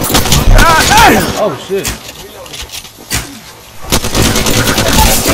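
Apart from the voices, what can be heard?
Mozambique shotgun gunfire in Apex Legends video game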